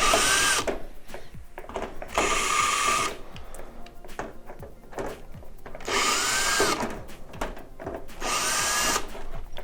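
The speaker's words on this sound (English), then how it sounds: "So we're also going to want to go ahead and remove these 4 screws right here." A power drill backs screws out of a black plastic piece inside an Avalon/Primo water dispenser, whirring in four loud bursts of about a second each, with rattling and handling noises between them.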